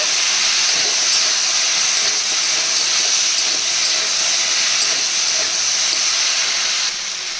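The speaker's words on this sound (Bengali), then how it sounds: "এদিকে আনাজ কষানো হচ্ছে" Vegetables sautéing in a pan for a Bengali taro and Malabar spinach curry: a steady, loud, even hiss of frying that holds throughout and drops slightly near the end.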